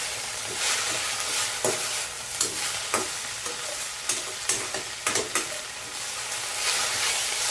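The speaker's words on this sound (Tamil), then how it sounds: "இப்போது நல்லா வறுத்துட்டோம், ஆனால் பச்சை கலர் மாறலை." Mint and coriander leaves dry-roasting in a pan, stirred repeatedly, with a faint steady sizzle and a run of light scraping and tapping strokes close by.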